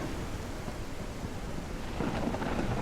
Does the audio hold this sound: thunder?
yes